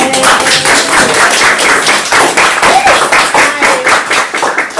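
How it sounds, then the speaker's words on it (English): A loud, close patter of claps rings out for a woman named Danielle at a brokerage team meeting on risk management. The clapping is uneven and rhythmic, like a few people applauding near the microphone. "Big round of applause for Danielle"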